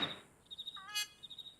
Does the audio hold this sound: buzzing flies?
yes